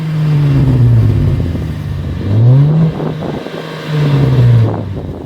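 A Holden VF Commodore SV6 automatic with an X-Force modified exhaust revs up three times, each swell rising and falling in pitch, with a loud, close, throaty burble and wind buffeting the microphone.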